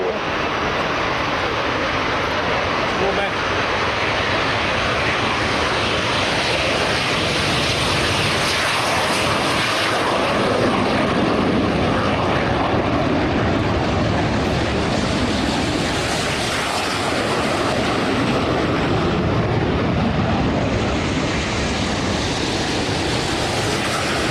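Military jets roll and take off at RAF Fairford during an air show, producing a long, loud, broadband engine roar that swells and stays steady across the whole stretch without speech.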